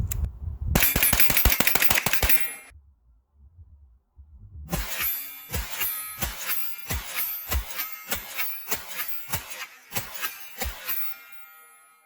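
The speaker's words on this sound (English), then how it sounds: "See how I felt the rise coming on there as I was pumping rounds downrange itself." CMMG AR-9 9mm radial delayed blowback carbine with an 8-inch kit fired outdoors: a fast burst of close, sharp shots, a short pause, then a long string of evenly spaced loud reports that trail off at the end.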